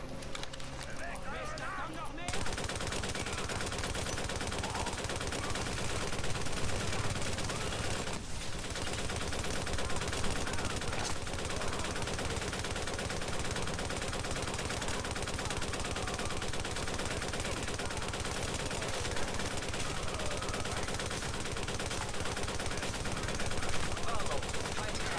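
Weapons in the video game The Division fire continuously in dense, overlapping volleys of rapid gunshots that fill the whole stretch, with voices talking over the battle throughout.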